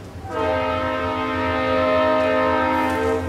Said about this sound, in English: Hey, train, you're interrupting.